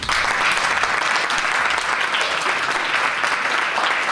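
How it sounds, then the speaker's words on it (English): A crowd at an anniversary gathering claps steadily for several seconds, a dense, even wash of applause close by with no voices standing out. "Just a round of applause."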